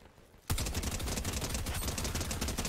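Sustained automatic gunfire in Fortnite as a player shoots the shimmering Cursed Llama, bursting in loudly after a brief quiet moment and continuing as a dense, rapid stream of shots.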